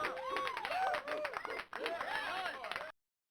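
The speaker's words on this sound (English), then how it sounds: "sound effect of crowd cheering." Sound effect of a crowd cheering from the video game Stunt Island, a dense burst of cheers and claps lasting about three seconds, then cutting off abruptly into silence.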